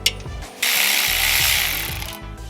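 A ratchet works on the downpipe bolts of a boosted pickup truck, giving a brief click at the start and then a long, loud, close whirring burst of fast ratcheting that tails off near the end.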